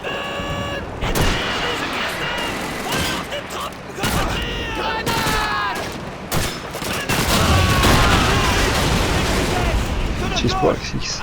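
Call of Duty 2 combat on PC, with dense bursts of rifle and machine-gun fire and grenade blasts crackling loud and close, broken by brief pauses, while a voice talks over the battle.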